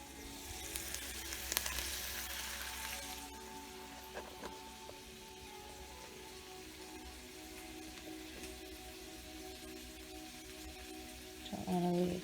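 Soft, steady sizzle of mushrooms, sausage and mixed vegetables frying in a pan for an omelet, with faint stirring clatter and a few clicks, fairly quiet and continuous.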